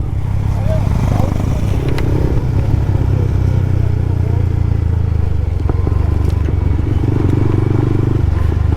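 An unserviced motorcycle engine runs close and loud with a steady rattling drone, overlaid by clattering and scraping, while people talk over it.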